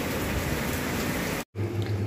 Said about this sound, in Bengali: আস্তে আস্তে বৃষ্টির পরিমাণ কমে চলে আসে।